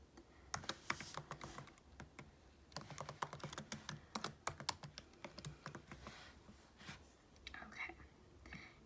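Typing text into a text box on a computer keyboard: a close, irregular run of clicky keystrokes in quick bursts with short pauses, and soft whispered talk underneath.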